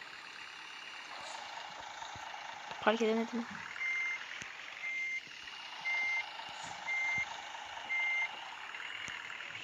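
A heavy bus idles in the video game Bus Simulator Ultimate while regular reversing beeps sound in an even series, with a short hiss of air brakes and a voice speaking briefly.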